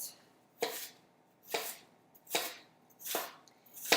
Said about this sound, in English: I'm going to chop it into very small